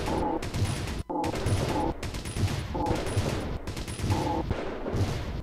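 Mortars and artillery towers fire in the video game Robo Defense: dense, continuous volleys of cannon-like blasts and booms that repeat in a steady rhythm and stay loud throughout.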